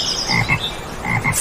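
A frog croaks in a quick series of short, raspy pulses, loud and close, set in two clustered bursts with a brief pause between them.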